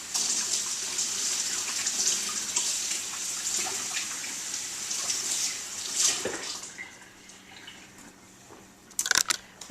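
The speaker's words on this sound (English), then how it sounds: "Let me wash my hands real quick." Hands being washed under a running kitchen tap, with a steady rushing hiss of water for about six seconds before it tapers off into a few splashes and drips.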